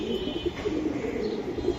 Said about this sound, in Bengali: এগুলো অরিজিনাল কন্ঠি গলা কবুতর।